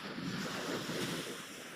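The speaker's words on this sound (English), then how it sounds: "There's a bit of northerly in the wind tonight, and that is pushing this swell up." Ocean swell rolls onto a rough-ground beach at Felixstowe on a cold, windy night with a northerly breeze, producing a steady faint wash of surf under gusty wind noise.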